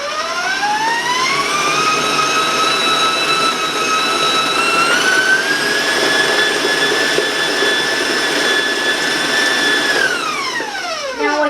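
Electric mixer beating dark rum pound cake batter, a loud motor whine that climbs in pitch as the speed rises, holds a steady high drone for several seconds, then winds down at the end.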